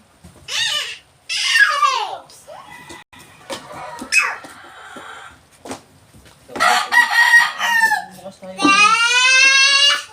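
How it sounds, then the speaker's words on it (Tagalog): A rooster from Pilar Farm crows several times at an indoor expo, its loud calls breaking through the nearby chatter of voices. "Chicken."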